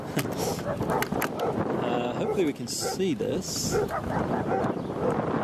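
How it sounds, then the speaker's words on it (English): Dogs barking at a distance outdoors on a windy day, intermittent yaps and barks mixed with some whimpering, heard under someone talking steadily over heavy wind noise on the microphone. "Excuse the dogs barking."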